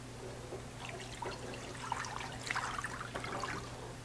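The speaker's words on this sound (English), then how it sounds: "Just fill it up with some water." Water pours and trickles into a large deep skillet, a close, uneven splashing stream over a low background hum.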